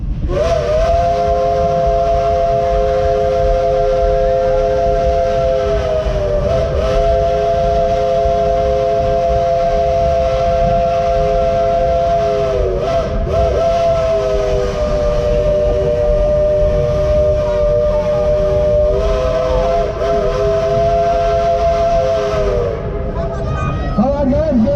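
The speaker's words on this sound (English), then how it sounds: "One, two, three, blow the whistle!" A Dollywood Express steam train whistle blows one long sustained multi-tone blast lasting over twenty seconds, loud and close, with brief wavers in pitch, while a crowd murmurs faintly underneath.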